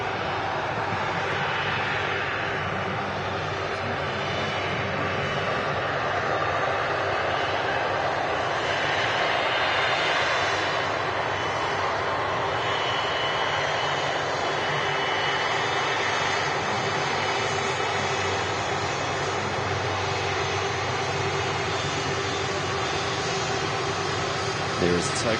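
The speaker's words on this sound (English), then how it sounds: "There is the Turkish Airlines A330. Really big operator here at Manchester." A Turkish Airlines Airbus A330 jet at Manchester Airport gives a steady, broad engine roar that holds evenly for the whole stretch, fairly loud and constant with no clear break.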